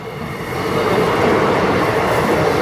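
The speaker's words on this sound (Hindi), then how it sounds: "गुंटूर रायगढ़ एक्सप्रेस है, हाँ एक्सप्रेस ही है।" Guntur Rayagada Express rolling past on the rails, a loud continuous rumble that swells in the first second and then holds steady with no voices.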